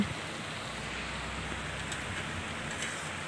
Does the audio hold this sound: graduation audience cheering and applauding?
no